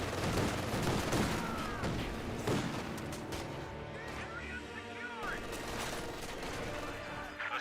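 Gunfire from a German 222 armored car in Company of Heroes 2, rapid shots and thumps mixed into dense battle noise while a caster talks over it.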